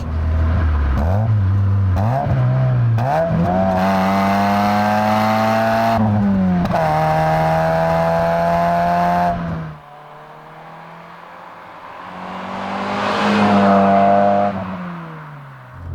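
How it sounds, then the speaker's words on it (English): A 1997 Alfa Romeo 145 Cloverleaf with an aftermarket exhaust revs hard through several gears, a loud rasping engine note rising and dropping with shifts, then easing off before another rev builds and fades, no voices. "the exhaust on this car is not standard. But it does sound fantastic."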